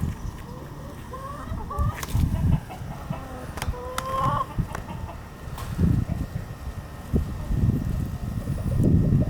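Backyard chickens, including friendly red sex link hens, clucking and crowing close by in a yard, with short repeated calls over rustling and scratching noise, and no talking.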